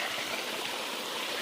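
Clear, iron-rich spring water flows out of the ground toward a river, a brief, steady, close rushing wash with no voices.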